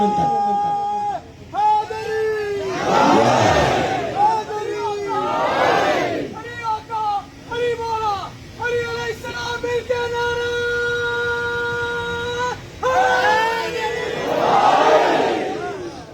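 Crowd at a Muharram majlis on a cavalry ground loudly chanting a religious slogan in unison, with bursts of massed voices rising and falling over a sustained amplified call, repeated in waves.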